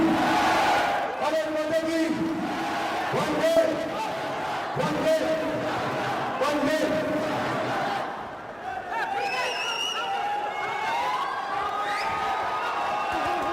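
Home crowd at a combat sports final, a continuous roar of cheering and shouting with rising chants, heard under a commentator's voice throughout.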